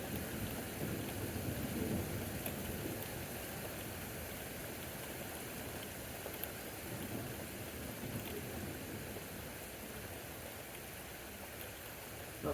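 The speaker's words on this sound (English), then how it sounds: "It's mainly heavy rain, and we just had a couple of pieces of hail fall." Heavy rain pours steadily in a June thunderstorm with small hail, a dense, even roar of falling water lasting throughout, moderately distant and without clear thunder.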